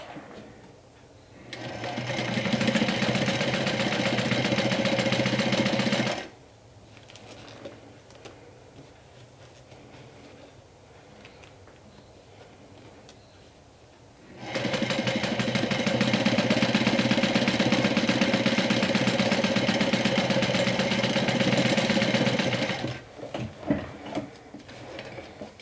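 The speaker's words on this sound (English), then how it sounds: "and then I'll sew the sides." Sewing machine stitching the bottom and sides of a Sew Sweetness Gloss cosmetic bag, two long steady runs of rapid mechanical whirring separated by a quieter pause with light handling sounds.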